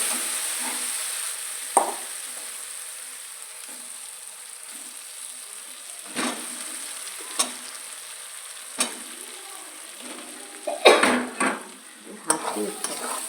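Potatoes frying in oil with ground spices and meat masala, a steady sizzling hiss underneath while a utensil scrapes and stirs against the pan in scattered knocks, louder clattering toward the end, no voices.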